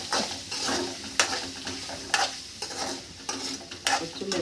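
Shallots sizzle steadily in a hot pan, with regular bursts of louder stirring scrapes and spatter at roughly half-second to one-second intervals, close and alone with no talk.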